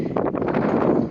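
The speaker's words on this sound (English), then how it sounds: "It's kind of windy here." Wind buffeting a microphone in rough gusts, a close, steady rushing roar with soft rustling bursts.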